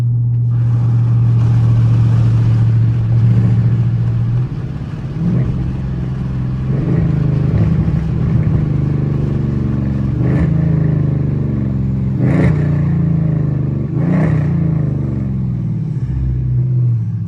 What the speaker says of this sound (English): Try to give y'all some downshifts right here.